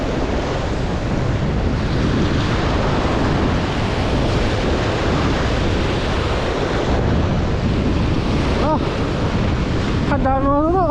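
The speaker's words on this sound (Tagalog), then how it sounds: "Grabe, lakas ng alon." Strong ocean waves crash and roar continuously at sea near a fishing net, mixed with heavy wind buffeting the microphone, with a brief voice near the end.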